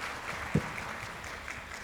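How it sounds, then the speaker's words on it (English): A conference audience breaks into a brief round of applause, a soft wash of many hands clapping at a distance for under two seconds. "Can we give him another round of applause?"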